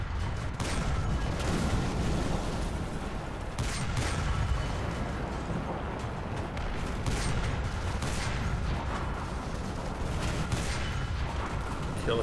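A Japanese Type 95 Ro-Go heavy tank fights in the War Thunder game, its cannon booming at intervals over a constant rumble of battle noise and distant gunfire.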